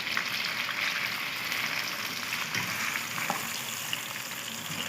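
Beef boti pieces frying in oil make a continuous, close crackling sizzle with occasional sharper pops, steady throughout and free of speech.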